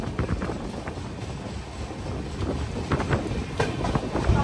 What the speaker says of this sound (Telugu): స్లో అయ్యింది ట్రైన్ అలువా ముందు.